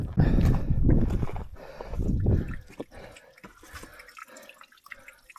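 Water trickles and drips from a mountain spring. Voices talk loudly at first, then the soft, close trickling continues under quieter speech.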